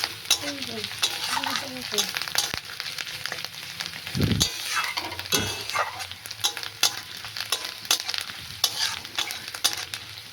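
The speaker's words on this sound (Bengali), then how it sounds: "পেঁয়াজ আদাটা ভাজা হোক।" Onion and ginger sizzle in a pan for a Bengali fish curry, a steady close crackle with scattered stirring scrapes and taps throughout.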